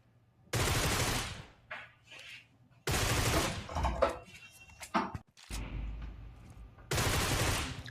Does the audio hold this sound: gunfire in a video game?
yes